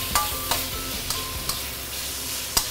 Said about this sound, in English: you saute for it for a while